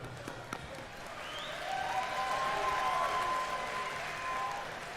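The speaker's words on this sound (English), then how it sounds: "So hand of applause for Rory." Crowd at a PFL mixed martial arts event applauding for a fighter, a soft, distant swell of clapping that builds after a moment and carries on evenly to the end.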